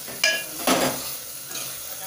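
Tomatoes cook down in a pan for curry leaf chutney, with a steady close sizzle broken by two sharp scrapes of a spoon stirring the mixture, and no talking.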